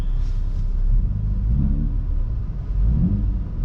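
A Volvo P3 3.0L engine fitted with new ignition coils idles steadily, its low, smooth rumble holding even throughout with no misfire or stumble.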